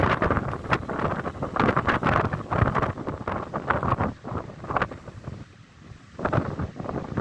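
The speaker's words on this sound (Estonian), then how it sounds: "Tuul on kuskil 18 meetrit sekundis, lääne tuul on siis praegu 5." A strong west wind in a small spring storm by the sea, roaring and buffeting the microphone in loud gusts that ease briefly before surging again, with no voices.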